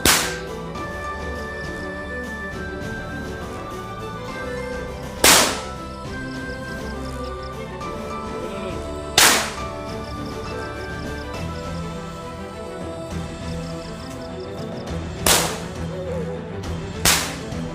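A few sharp, loud cracking bangs go off several seconds apart over a steady background hum, like firecrackers exploding nearby.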